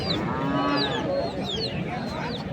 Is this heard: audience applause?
no